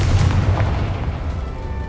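A Confringo blasting spell explodes in the video game Hogwarts Legacy, a deep booming blast that strikes at once and then rumbles and fades away.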